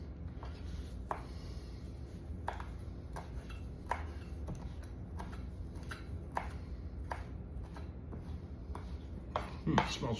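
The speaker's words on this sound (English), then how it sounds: "So I went to my herb garden and I got some oregano, which I'll chop some up here." Fresh garden oregano chopped with a knife on a cutting board, a sparse series of quiet, close taps at irregular intervals over faint background hum, with no talking.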